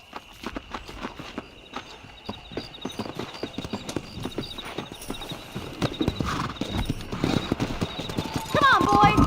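Horse hooves clip-clopping at a steady gait in Red Dead Redemption, close and rhythmic, picking up pace toward the end, with voices talking over the riding.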